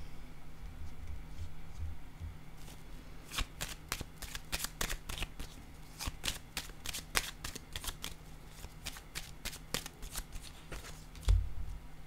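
Tarot cards riffled and shuffled in a quick run of crisp, close flutters and snaps, then laid down with a soft tap near the end, with no talking.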